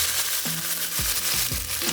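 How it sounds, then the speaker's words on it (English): Garlic cooking in a tablespoon of oil in a pan for Puerto Rican pollo guisado, a steady bright sizzle running throughout with a few low knocks of stirring. "The thing we're gonna do is cook our onions and garlic."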